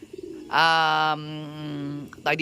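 Racing pigeons coo while eating, one long, loud, close coo with a harmonic tone after a few soft notes, then a quieter second call and a brief burst at the end.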